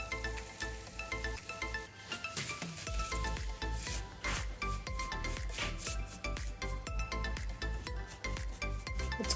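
A gritty paste of real sand and glue being spread onto an upcycled kettle fairy house to give it a cement-brick look, heard as close, continuous scraping and rubbing strokes with music playing throughout.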